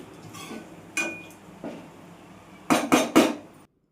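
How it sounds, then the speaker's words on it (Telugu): Tamarind rice (pulihora) mixed in a pot, a spoon striking and scraping the metal vessel in a few scattered knocks, then a quick cluster of three clanks before stopping. "సో పులిహోరని అయితే బాగా మిక్స్ చేసేస్తున్నాము"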